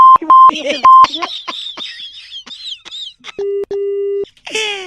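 On a Red FM radio prank call, electronic phone beeps and tones sound as the line disconnects, with repeated short beeps and longer steady tones mixed among bursts of voice.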